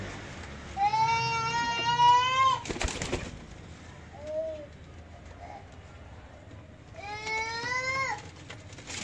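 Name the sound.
teddy pigeons cooing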